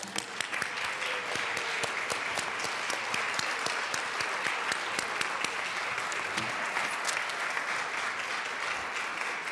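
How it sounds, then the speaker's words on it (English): Applause fills a legislative chamber at the Colorado House as members honor an award-winning doctor, a steady, dense wash of many hands clapping throughout, moderately distant and even in level. "can we please give a big round of applause for Dr. Paulson for winning this award?"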